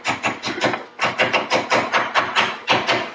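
A hammer gently tapping a bearing into an aluminum mower deck housing, an even series of light, close metallic taps repeating steadily around the part.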